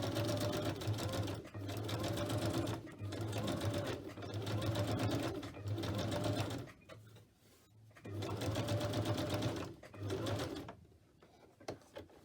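A domestic sewing machine running a straight stitch while folded flip-out paper pockets are made, whirring steadily in several bursts with short pauses between them, close and fairly loud.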